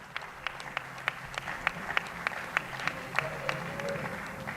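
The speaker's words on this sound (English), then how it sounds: "Let's have a round of applause, ladies and gentlemen," An audience at a government launch event for the auction of critical and strategic mineral blocks claps in a steady, moderately loud round of applause with distinct individual claps spread across the room.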